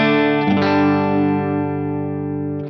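Fender Telecaster running through a Nobels ODR-1 overdrive pedal switched off and into a Vox AC15 amp, clean tone: a single strummed chord ringing out and slowly decaying over a couple of seconds, close and alone.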